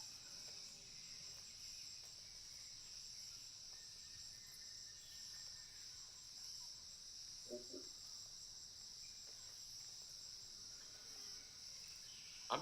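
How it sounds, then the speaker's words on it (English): Jungle night ambience, dominated by a steady high chirring of crickets and insects that runs unbroken, quiet and even, with a brief faint bird call midway and a soft click near the end. "the sound of the surf changes to the sound of the jungle, with insects and birds echoing across"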